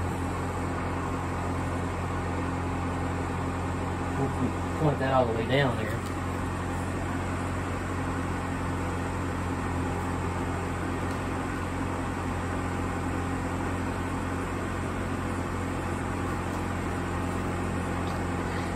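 A Denbig portable air conditioner hums steadily on fan speed 3 inside a camping van, a constant low drone with faint airflow hiss throughout, while someone talks briefly near the start.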